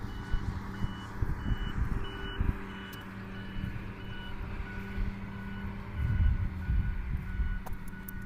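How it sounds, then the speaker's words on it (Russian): Construction machinery works on a roadbed being filled in Yakutsk, with a steady low diesel rumble and throbbing that swells near the end, while faint reversing beeps repeat in the background. "Там техника работает."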